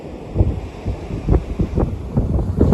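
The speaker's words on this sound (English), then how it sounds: "Yeah, a bit breezy out here." Wind gusts across the beach at Rainbow Beach near Double Island Point, a steady low buffeting rumble that swells and dips with each gust, with no voices.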